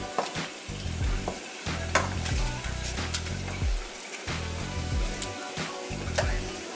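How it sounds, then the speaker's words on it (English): Chicken sears in a hot pan for a cornbread dressing, giving a loud continuous sizzle with bursts of spattering and repeated scraping and stirring knocks close by, and no talking. "So we're gonna sear this off, let this get hot in there."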